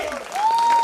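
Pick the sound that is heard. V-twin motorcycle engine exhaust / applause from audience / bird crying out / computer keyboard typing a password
applause from audience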